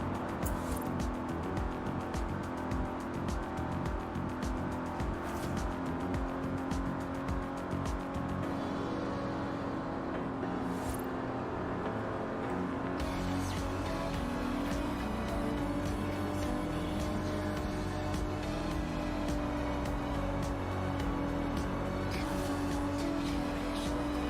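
A car drives and slides through turns in the Forza Horizon 4 video game, with a steady engine drone and shifting pitch as it accelerates, and tyre noise mixed in throughout a continuous loud stretch of play.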